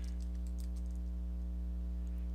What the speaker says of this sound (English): I'll click on that line and then just start typing until I get a match